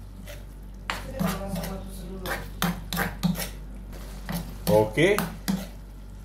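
Sardines (salmon) fry in a pan while being stirred, with a faint sizzle under repeated clinks and scrapes of a utensil against the pan; a voice speaks briefly.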